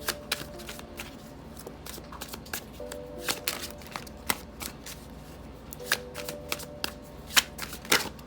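Tarot cards being shuffled by hand, a steady run of crisp riffling flicks and soft slaps, close and fairly quiet, with a faint background hum.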